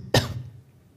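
A single sharp cough bursts out near and loud, then trails off into a quiet room.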